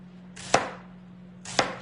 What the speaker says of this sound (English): I'm chopping an onion.